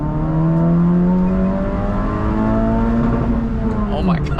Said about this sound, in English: that rev limiter is like so soft. That is the softest rev limiter.